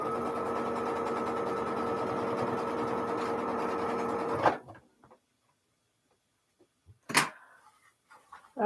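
A sewing machine runs steadily for about four and a half seconds, stitching quilt block leader enders, then stops, followed by near silence and a few small handling clicks and one sharp tap.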